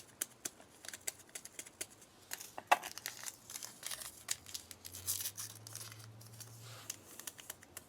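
Small salt and pepper packets from a Danish 24-hour ration are torn and crinkled open close up, giving sparse, irregular rustles and sharp rips against a quiet background.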